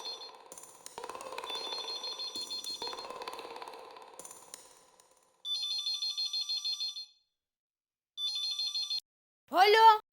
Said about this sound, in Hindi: दया, कब से फोन लगा रहा हूँ।